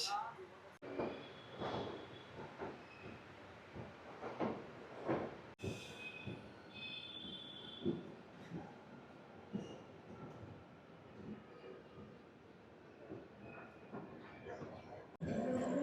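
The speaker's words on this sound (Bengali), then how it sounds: "আমাদের ট্রেন ছেড়ে দিয়েছে" Low rumbling and rattling of a moving night sleeper train carriage from Kolkata, fairly quiet and steady, with muffled voices and thumps throughout.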